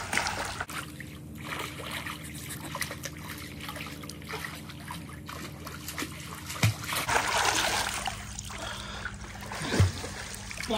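Friends at a farmhouse go into the water, and splashing and dribbling water sounds come and go. Scattered voices and a few sharper splashes show up near the end.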